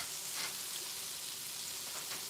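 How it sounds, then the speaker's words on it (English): Food bubbling and frying in a pan during a home cooking session, with a steady soft sizzle, a couple of brief spattering bursts and faint stirring, fairly quiet and with no talk. "That's why it's bubbling like that, almost like there's a lot of liquid in it."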